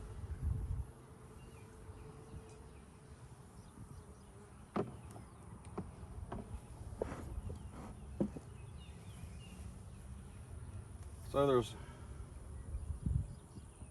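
Honeybees buzz around a hive in a cow pasture apiary, a low continuous hum with passing individual bees, while a person talks briefly near the start and handling noises occur.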